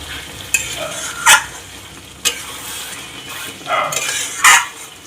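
Luchi deep-frying in hot oil in a kitchen, a steady soft sizzle punctuated by several sharp scraping strokes of a utensil against the pan.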